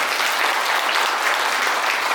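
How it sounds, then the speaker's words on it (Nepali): Wedding guests at a Nepali Christian ceremony clap for the couple, giving a dense, even burst of applause from a close crowd that fills the whole moment. "ताली बजाउनुहोस् दुवैजनालाई"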